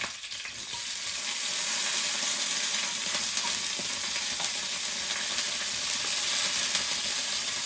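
Okra, mustard seeds and curry leaves frying in hot oil, a steady loud sizzle with faint crackles and pops throughout, close up and without talk.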